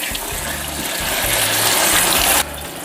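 Fresh blueberries are rinsed under running water from a tap, a loud continuous gushing splash that swells slightly before cutting off abruptly near the end.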